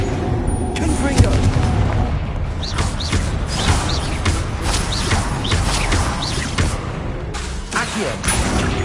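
Confringo explosive spells blast repeatedly in Hogwarts Legacy combat, a dense run of booming impacts and crackling bursts layered over continuous battle noise, loud throughout with a voice speaking beneath.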